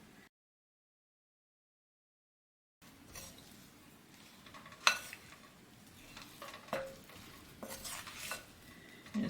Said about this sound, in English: And it's getting hard to mix in,